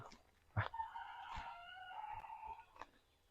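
Chickens on a small organic farm in Ratchaburi, Thailand: a single drawn-out crowing call, fairly faint, framed by a few soft thumps in a quiet setting.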